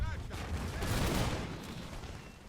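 Cannon fire in the Napoleonic-era strategy game Imperial Splendour, a Prussian army's guns rumbling in a continuous heavy volley of booms with a voice faintly present underneath.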